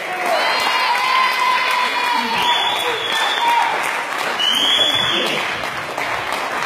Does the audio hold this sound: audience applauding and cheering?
yes